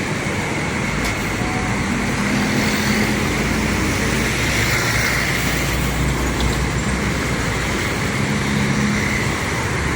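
Rosalia Indah bus slowly manoeuvring into a depot garage among parked buses, a steady low engine rumble and road-like noise throughout, no talk.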